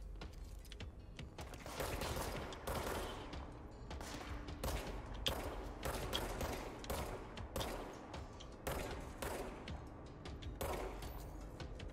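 Repeated gunshots in the video game Control come in an irregular burst of sharp, fairly close reports, some in quick pairs, over a steady low rumble of background ambience.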